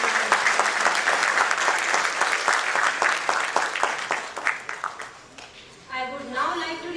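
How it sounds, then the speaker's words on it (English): Audience applause at a World Standards Day event, steady dense clapping from a large crowd that thins into scattered claps before a voice starts speaking at the end. "I request everyone to please give a round of applause."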